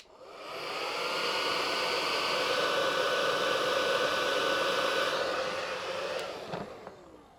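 A hair dryer heating vinyl stickers on a Suzuki DRZ400SM blows steadily at close range, a loud whooshing whir that runs for several seconds before switching off with a small clunk.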